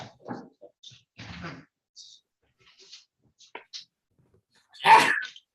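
A sharp, loud sneeze bursts out near the end after a few quiet rustles, clicks and soft breathy noises.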